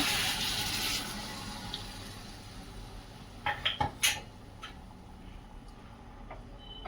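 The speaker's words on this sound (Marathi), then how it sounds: "वांग शिजण्यासाठी आपण थोडस पाणी घालून घेऊया" Water is poured into a pan of stuffed brinjal curry, a short faint splash followed by a few clinking pan and utensil knocks, with no talking.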